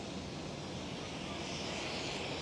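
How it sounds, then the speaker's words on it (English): A KLM Boeing 777-200 departs from Amsterdam Schiphol with a steady broadband engine roar heard from a distance and no talking during the short moment. "While the KLM 777-200 is leaving."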